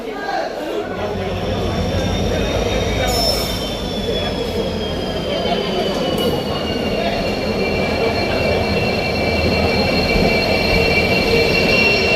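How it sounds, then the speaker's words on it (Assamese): A train arrives at a station on the way to Kamakhya, its wheels squealing in long high drawn-out tones over a loud, steady rumble of the rolling carriages. "এতিয়া ট্ৰেইনখন আহি পালে"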